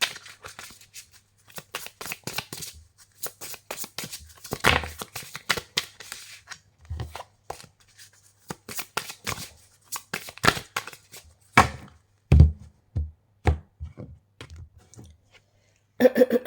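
Tarot cards being shuffled by hand, a close run of quick dry riffling clicks and slaps in bursts with short pauses between, no speech heard.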